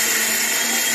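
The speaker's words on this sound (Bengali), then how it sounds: "মিক্সিটা চলছিল তাই বন্ধ করে দিয়েছি" A kitchen mixer grinder whirs loudly and steadily while grinding lentils into paste, a dense high-pitched motor whine that holds constant throughout the short stretch.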